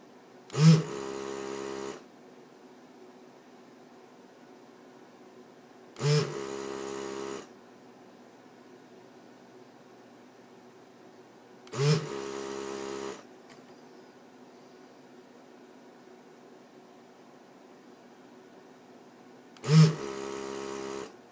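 An electric desoldering tool sucks solder off the leads of a laptop DC jack in four separate buzzing, hissing bursts of about a second and a half each, spaced by quiet pauses.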